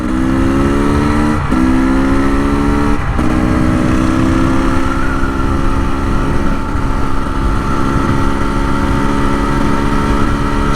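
A KTM 300 Erzberg two-stroke dirt bike accelerates hard, its loud engine note climbing through gear changes with brief breaks between pulls, then holding a high, steady roar.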